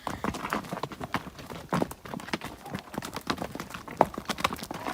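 Hooves of a horse at a working farm clip-clop steadily on hard ground, a close, quick uneven rhythm of sharp knocks running throughout with faint background activity.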